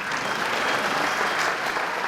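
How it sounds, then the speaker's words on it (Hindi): Applause from a studio audience on a comedy police show set, a steady dense clatter of many hands clapping, fairly close and without talk. "तालियां।"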